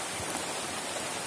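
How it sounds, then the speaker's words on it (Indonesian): Steady rain falls outdoors at night, a dense broadband hiss with faint patters on surfaces, constant and close throughout. "walaupun hujan kita tetap terjang ya Dek Saras ya"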